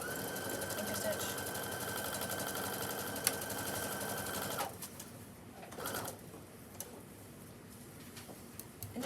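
A sewing machine stitches a pants seam with a steady mechanical whir and faint ticking, running for about four and a half seconds and then stopping, leaving quieter room noise with light handling sounds.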